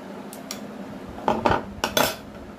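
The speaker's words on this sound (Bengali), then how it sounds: "দিয়ে দেবো আইস কিউব" Ice cubes dropped into a glass for green mango soda, several sharp clinks and rattles in quick clusters, close and clear with no talking.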